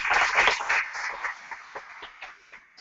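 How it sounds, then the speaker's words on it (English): A conference audience claps in a burst of applause that starts full and gradually thins out and fades away. "Round of applause for that."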